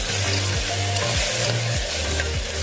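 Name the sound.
frying ginger garlic paste for veg pulao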